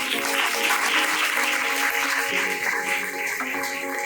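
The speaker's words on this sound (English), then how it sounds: "Give a round of applause to Thiru again." Audience applause fills a hall after a session at an AI talk event: dense, steady clapping from a large crowd, loud and continuous throughout.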